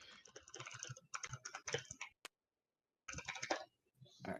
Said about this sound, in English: I love the sound of frantic typing